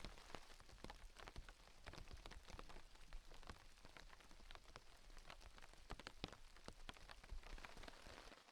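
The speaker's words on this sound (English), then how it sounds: "The rain is getting a little heavier now" Steady rain patters on a tarp shelter pitched with a ridge line at a rainy campsite, dense drops drumming continuously and evenly throughout with no voices.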